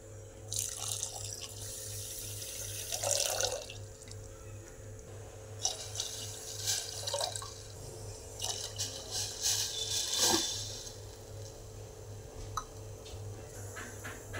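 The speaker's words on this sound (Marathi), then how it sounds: "आता 3 पेले पाणी घालायचे" Three cups of water go onto two cups of sugar in a pan to make gulab jamun syrup. The pouring comes in several short, close splashing bursts with quiet pauses between them, and no one speaks.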